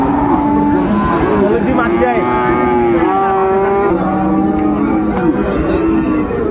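A bull calf moos several times in drawn-out calls at a busy cattle market for Friesian and cross-breed calves, loud and close, with people talking in the background.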